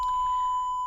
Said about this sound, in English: I just beep it once